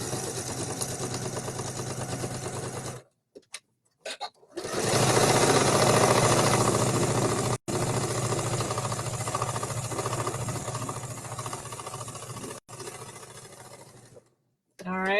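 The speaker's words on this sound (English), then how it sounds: "I'm stitching it really fast" Sewing machine running fast in long steady bursts while stitching a slit at the angle pieces of a garment, with a few brief pauses between runs and a voice talking over the stitching.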